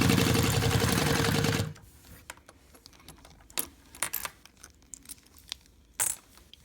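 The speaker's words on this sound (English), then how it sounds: "then I'm just gonna top stitch all the way around" A sewing machine top stitching all the way around a strap runs in a loud steady buzz for under two seconds, then stops, followed by scattered light clicks and handling taps.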